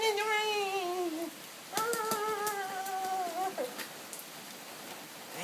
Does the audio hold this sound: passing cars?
no